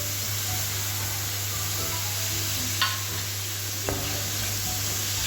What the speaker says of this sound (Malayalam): അതൊക്കെ കൂടി നല്ലപോലെ മിക്സ് ചെയ്തെടുക്കുക ഗൈസ്